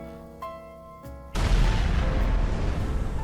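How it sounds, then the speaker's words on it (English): Explosion right above a character's head in GTA 5: a quiet stretch with a couple of small ticks, then a sudden loud boom that rolls on as a broad, sustained rumble. "it triggers a bizarre sequence where your phone turns black and causes an explosion right above your character's"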